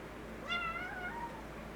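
A cat gives a single drawn-out meow indoors, fairly faint and a short way off, rising and then trailing away over a low steady room hum, with no talking.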